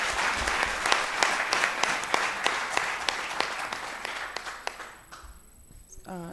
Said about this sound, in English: Please make the clap more resounding.